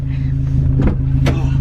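A manual-transmission car's engine idling after a push start, a loud steady low hum close by, with brief voices talking over it.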